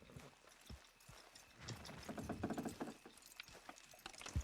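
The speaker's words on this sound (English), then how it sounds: "Horses will pull it clean down." Horses in Red Dead Redemption 2 clop along steadily while pulling a load to clear a jam, their hooves striking in a busy, close rhythm with light mechanical rattles.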